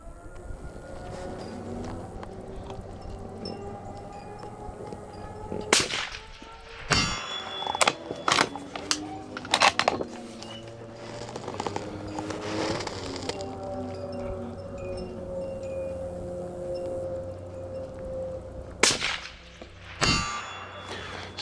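Rifle rounds ring off a steel target, several metallic clangs and pings scattered over a long stretch with lingering ringing tones, plus a couple of sharper cracks near the end, fairly distant against steady outdoor background noise.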